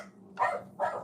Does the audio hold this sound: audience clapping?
no